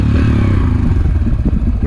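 Yamaha TTR dirt bike engine running close by, a steady low throbbing motor with some mechanical clatter, loud and continuous across the short stretch with no clear revving.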